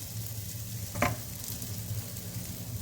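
Rice and vermicelli frying together in butter and oil give a steady, soft sizzle, broken once by a brief stirring scrape.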